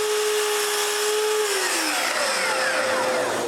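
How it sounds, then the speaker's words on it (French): A power tool cuts a small piece of wood at a 15-degree angle in a woodworking shop, a steady loud whine whose pitch sags as the blade bites in, continuous for the whole stretch with no talk. "je dois couper un bout de bois avec un angle de 15 degrés"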